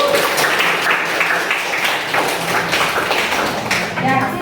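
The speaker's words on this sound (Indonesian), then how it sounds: "Kasih tepuk tangan." Students clap for a classmate in a classroom history lesson, a dense, continuous patter of hand claps heard close by, with voices mixed in underneath.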